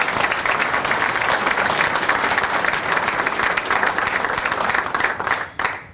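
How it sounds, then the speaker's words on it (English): Loud, sustained applause from an audience at a public works awards ceremony, dense clapping filling the room for several seconds before tapering off at the end. "So I want y'all to give them a round of applause"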